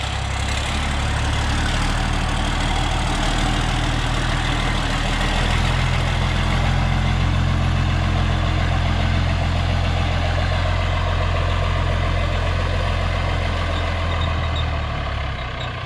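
An International Loadstar truck's heavy engine idles just after its first start, a loud continuous low diesel rumble with a slight rise in revving midway, no talk.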